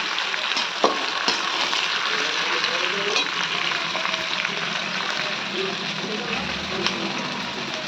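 Chopped capsicum and onion lightly frying in a pan for chilli chicken, giving a steady, close sizzle with occasional sharp spatula clicks throughout.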